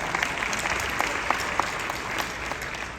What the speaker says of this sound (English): We get some claps for that.